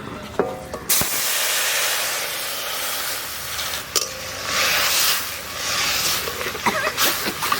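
Mustard-paste water hits hot oil in a village kitchen pot while cooking a brinjal curry, bursting into loud continuous hissing sizzle that swells and fades in waves, with a few clinks of utensils.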